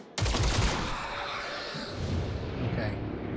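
Squad members breach a room in XCOM Chimera Squad, opening with a sharp burst of gunfire followed by a sustained volley of shots and rumbling impacts, loud and close.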